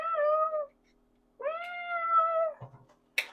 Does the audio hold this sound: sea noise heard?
no